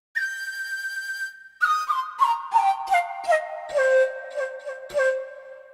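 Roland U-20 RS-PCM keyboard from 1988 playing a bright, whistle-like sampled tone: one long held note, then a descending run of short notes stepping lower, clear and alone.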